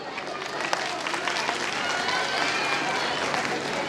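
Steady applause from an audience at a school convocation ceremony in Kasur, a dense wash of clapping that holds evenly throughout with no break.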